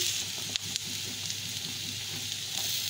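Chopped capsicum and other vegetables fry in a pan with a steady, close, hissing sizzle, broken by a couple of faint scrapes from a stirring spoon.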